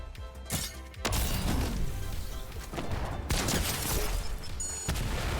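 A player in Fortnite fires at himself. The shot lands as a loud blast, followed by dense, crashing combat noise that keeps going through the clip.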